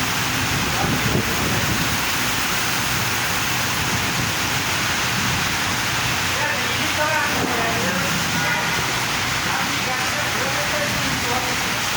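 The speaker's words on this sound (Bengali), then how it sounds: "তুফানের মতন বৃষ্টি বাতাস হচ্ছে, ঝড়, প্রচণ্ড ঝড় সঙ্গে বৃষ্টি বাতাস" Heavy rain pours steadily with a dense hiss while storm wind rumbles underneath, during a storm in Dhaka; a person speaks partway through.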